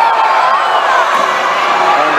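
A youth basketball crowd in a gym reacts loudly to a traveling call, a sustained dense roar of voices and shouts from start to finish.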